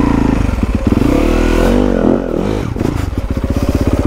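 A fuel-injected motorcycle engine idling roughly off-trail runs loud and close, its uneven idle pulsing and lurching with a brief rev before settling back into a choppy, irregular rhythm.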